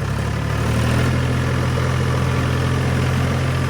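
A tractor engine held at 1500 RPM in a paddy field, droning in a steady, even low hum with a constant vibrating texture, close and unbroken throughout.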